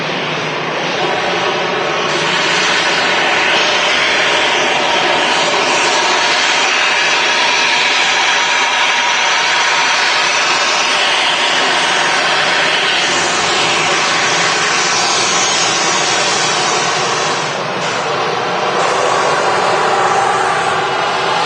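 EasyJet airliner jet engines roar loud and close, a sustained, dense whine and rumble holding for the full stretch with only slight dips, at an evening airport.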